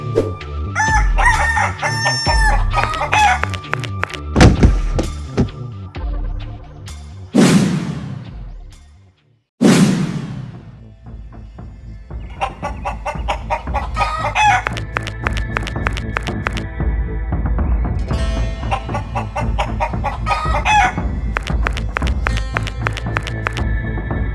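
Several voices imitate chickens, mixing clucks and drawn-out crowing calls, loud and close, with music playing underneath throughout.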